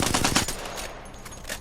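Alternator submachine gun hip-fired in Apex Legends, a rapid close burst of shots for about half a second, then a short echoing tail with a few faint later pops.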